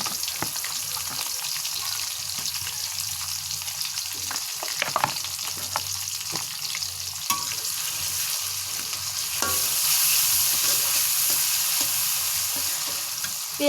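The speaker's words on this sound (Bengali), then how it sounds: "পেঁয়াজটা লাল লাল হয়ে ভাজা পর্যন্ত অপেক্ষা করছি।" Chopped onions fry in a garam masala tempering over a clay stove, a soft continuous sizzle with scattered clicks of stirring that swells louder toward the end.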